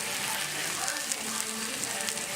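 Cream is poured into a hot pan of chipotle peppers and wine, setting off a steady, loud, close sizzle and crackle that holds for the whole stretch.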